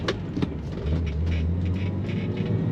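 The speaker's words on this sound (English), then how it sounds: "you're probably hearing a lot of wind noise" Steady broadband wind rush fills the cabin of a driving 1988 BMW M5 Dinan with a front door not fully shut, over a low continuous engine and road rumble, constant and fairly loud with no talking.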